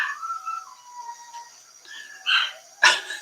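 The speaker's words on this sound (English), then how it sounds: "Can you guys hear that dog?" An excited dog yips and barks at close range, with a few high whining calls followed by two sharp barks near the end.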